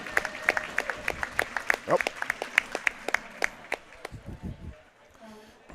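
Scattered claps and light applause echo around an ice hockey rink for a veteran official getting back to his feet after going down during a varsity game. A commentator talks over the sparse, uneven clapping, which thins out toward the end.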